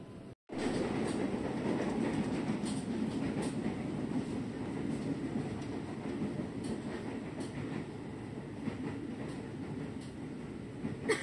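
A KRL commuter train runs steadily along the Kalideres–UI line, a continuous loud rumble of wheels on rails with faint clickety-clack, heard from on board throughout.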